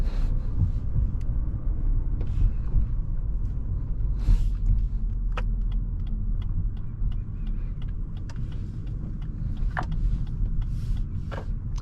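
A 2022 Lexus UX 200 cruising on the road: a steady, low engine and road rumble holds throughout, with a few faint clicks and ticks from the cabin and no talk.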